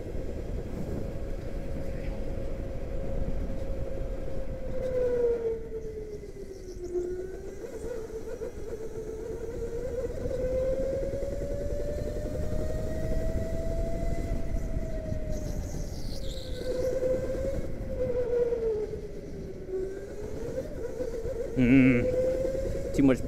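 Go-kart engine racing around an indoor league-night track, a continuous close drone that rises and falls in pitch through the corners, with a brief rattle near the end.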